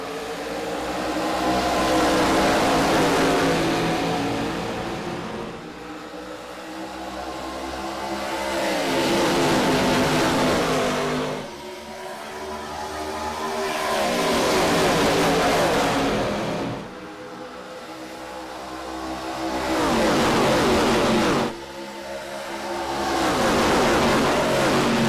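Race cars at Atlanta Motor Speedway in the iRacing video game roar past in loud, sustained engine drones that swell and dip in repeating waves as the field laps, with no talk over them.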